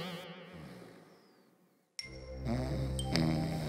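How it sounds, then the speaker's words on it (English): Cartoon snoring effect from a sleeping character in an animated fairy tale set in a cave, a wavering rhythmic snore alone for about two seconds, then cut off by a sudden bright crash and chiming magical tones. "Snow White saw Dunkov snoring right next to the invisibility crown."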